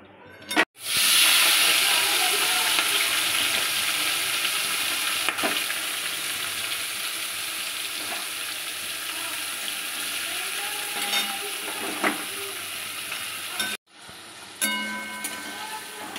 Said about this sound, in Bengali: এরপর ওই তেলের মধ্যেই আমি চিংড়ি মাছগুলো ভেজে নেবো